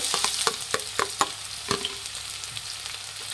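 Sliced medium onions frying in hot oil in a pan, giving a steady sizzle with several sharp stirring clatters early on, close and fairly loud with no talking.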